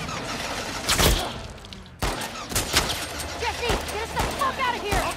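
Gunfire in The Last of Us Part II rings out as a rapid series of sharp, loud shots and impacts with ricochets and debris, steady and close, with voices mixed in.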